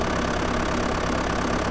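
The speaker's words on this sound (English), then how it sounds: "Up to 40 miles an hour in this tractor" A tractor engine in Farming Simulator 2011 drones steadily at a constant pitch, loud and close, running alone with no change in revs.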